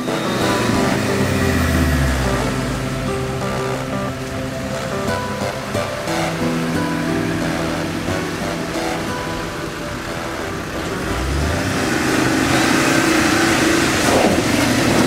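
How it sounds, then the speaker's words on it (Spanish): An off-road vehicle engine revs hard while churning through a muddy bog at an off-road club event, loud and close, with a rising and falling drone, splashing water and mud, and pitch sweeps as the throttle climbs. "sube el motor"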